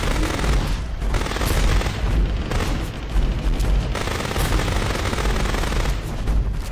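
Gunfire in Dino Survival rattles without a break, a dense, loud stream of rapid shots and booms that keeps going across the whole stretch.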